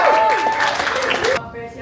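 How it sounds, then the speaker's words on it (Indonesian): An audience applauds at the gala premiere of the film Shaka Oh Shaka, a dense burst of clapping over a faint tone that cuts off abruptly after a moment. "Tepuk tangan dulu."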